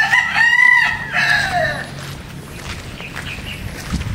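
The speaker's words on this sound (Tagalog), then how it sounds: "may mga manok din dito guys" A rooster crows loudly twice in quick succession at a Boracay resort, with softer clucking and background movement afterward.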